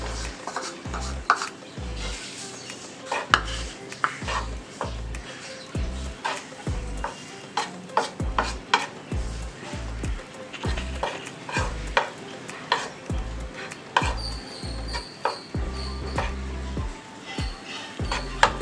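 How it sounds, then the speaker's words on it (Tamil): Chopped garlic sautéing in butter in a pan for a homemade white sauce, with repeated stirring scrapes and clinks of a spoon over a steady background sizzle. "அதில் அறுத்து வச்ச இந்த பூண்டை சேர்த்துக்குவோம்."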